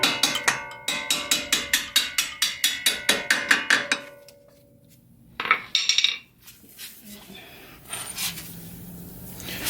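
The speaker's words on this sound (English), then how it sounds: "hammer these out" Hammer blows knock out suspension alignment bolts on a car, a fast run of sharp metallic strikes for several seconds, then a pause, a few scattered clanks and rustling handling noise.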